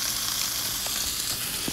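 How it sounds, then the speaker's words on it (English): A swordfish steak sizzles loudly in a hot pan, a steady dense crackle of frying with a few sharper pops, heard alone and close up. "When you hear sizzling, you know your food's gonna come out good."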